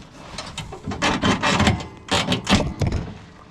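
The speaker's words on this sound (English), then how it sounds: "the next thing we have to do to get the tubes off is we have to pull these 2 pins" Steel hitch pins pulled from the push tubes of a Moose Utility snowplow, giving a series of metallic clanks, scrapes and ratcheting knocks up close over a few seconds, with no talking.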